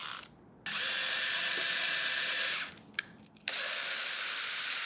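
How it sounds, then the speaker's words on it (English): A power drill bores pilot holes into a wooden shelf utility rail, the motor whirring loud and steady in two long runs separated by brief pauses and small clicks, with no talking. "From the top, we're gonna just do a pilot hole. And then we'll do that all the way down."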